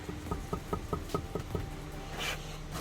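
A brick is tapped into place during bricklaying, giving a quick run of about seven light, evenly spaced knocks followed by a faint low hum.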